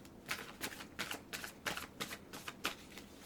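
Tarot cards being shuffled and drawn, a quiet run of quick riffling flicks in an even rhythm, close and soft, with no talking.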